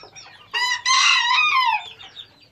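A rooster crows once, loud and close, a long rising-then-falling call lasting about a second and a half, with faint background noise around it.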